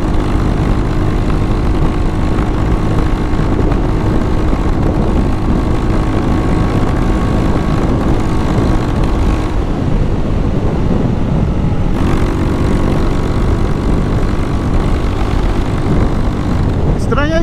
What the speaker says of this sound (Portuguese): Aqui, rapaziada, ó, a moto falha